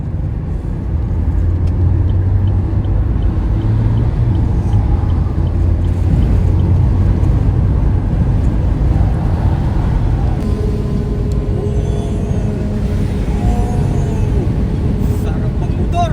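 A car cruising on a UK motorway, with a loud, steady road and engine roar filling the cabin throughout while voices talk faintly in the background.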